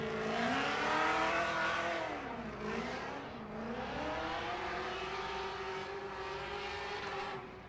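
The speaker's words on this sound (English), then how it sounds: "Make some noise for Cory Hosford, a supercharged 350Z, operated out of Arizona, K-Sport Fueled Racing 350Z" A supercharged Nissan 350Z drift car at a Formula Drift night round in Las Vegas drones loudly through a chicane, its engine pitch dipping and rising as it straightens out, with no commentary over it.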